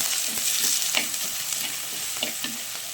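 Onion and garlic saute in a pan for sardine curry, giving a steady close sizzle broken by light stirring scrapes and taps; no voices are present.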